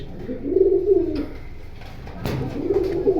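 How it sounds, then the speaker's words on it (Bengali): Two low, rounded coos from silver pigeons, each a soft rolling call lasting about a second, close by with a quiet pause between them. "সিলভার কবুতর দেখতেই পাচ্ছেন"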